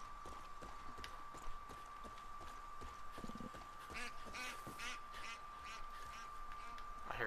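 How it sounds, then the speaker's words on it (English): Ducks quacking in the video game Far Cry 5, a cluster of nasal calls over steady game ambience with a constant tone running throughout, plus scattered hoof-like clops. "Ducks. Can I shoot that out the air?"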